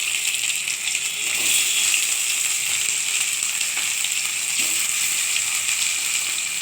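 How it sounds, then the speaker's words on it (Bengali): Potatoes frying in oil in a pan, a steady close sizzle holding at an even level throughout, with faint occasional stirring beneath and no voices. "এখন আলুটা ভাজা করে নিচ্ছি, ভালোভাবে আলুটা ভেজে নেব।"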